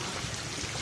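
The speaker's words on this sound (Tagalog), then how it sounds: "tulo ng mga tubig dahil yan sa meron silang fountain na mushroom" Steady rushing and trickling of water splashing from a mushroom-shaped fountain, continuous and fairly close, with no voices.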